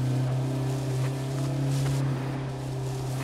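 Steady, droning vehicle engine hum in the video game H1Z1, a constant low tone held at an even level for a few seconds with no speech.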